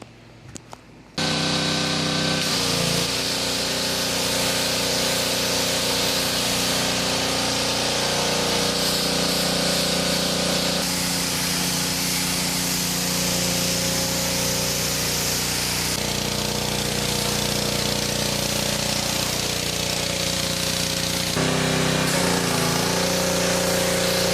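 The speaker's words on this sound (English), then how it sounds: "I'm just going to see how the power washer will perform" A Briggs & Stratton PowerBoss 8370CP gas pressure washer sprays a car with plain water, its engine drone and hissing jet steady and loud throughout after a brief quiet start, with no talking.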